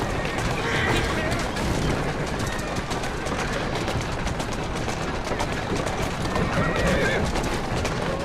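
In Assassin's Creed Syndicate, a horse whinnies over steady clopping hooves and busy game background noise, with a voice speaking intermittently.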